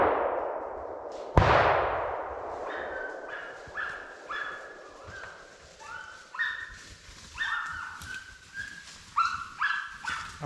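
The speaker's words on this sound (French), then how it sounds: "Les chiens mènent dans notre direction." Pack of hunting dogs baying during a driven wild boar and deer hunt in woodland, a sharp clang near the start, then repeated high yelps and barks at mid distance in uneven bursts.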